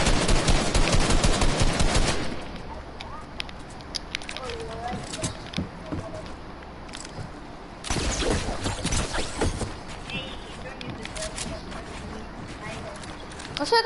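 Rapid gunfire in Fortnite, a dense loud burst in the opening seconds, then scattered shots and action sounds under a player talking, with another louder flurry of shots later.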